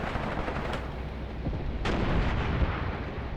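Heavy artillery battery fire in a WWII tactical war game on the Mius Front, a dense continuous rumble of distant booms with a few sharper reports standing out, no talk.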